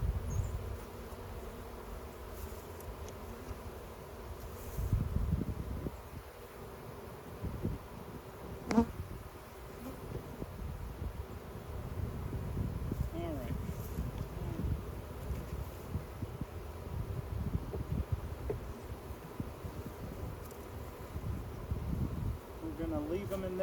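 A swarm of honeybees buzzes inside a hive box, a faint, continuous drone with bees flying near and away, under soft rustling and occasional handling noises.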